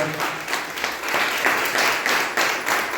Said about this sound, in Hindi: सर के नाम पे तो तालियां बहुत तेज बननी चाहिए